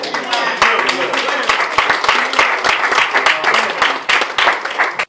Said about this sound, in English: I got a lot of claps and no one really understood where I was going with this